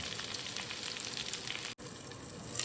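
Curry leaves hit hot oil for brinjal kulambu, making a dense, even, close-up sizzle that cuts out for a split second before carrying on.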